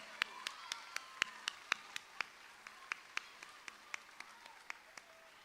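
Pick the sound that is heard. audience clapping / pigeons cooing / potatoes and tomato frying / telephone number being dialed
audience clapping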